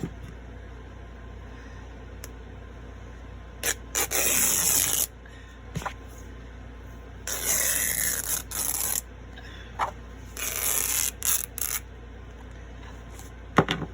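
A strip of material tears for a shabby chic journal, heard as three rough, ripping bursts, each a second or two long, separated by quiet handling and a few small taps.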